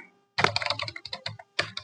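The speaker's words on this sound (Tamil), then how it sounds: "அதுக்கப்புறம் சம் அட்ரஸ் நம்ம டைப் பண்ணிக்கலாம்" Typing on a computer keyboard while entering an address in Tally Prime accounting software: a quick run of close, crisp key clicks, a short pause, then a few more taps.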